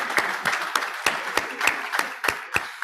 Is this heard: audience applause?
yes